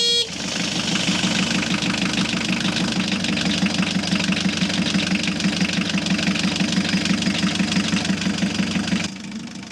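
A Volvo Penta marine diesel engine idles steadily and close by, with a rhythmic knocking chug that holds constant before dropping away at the end.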